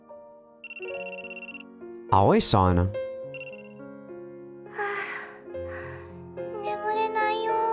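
A phone ringtone plays in a visual novel game, a melodic chiming tune that repeats through the clip while a character gasps and speaks briefly.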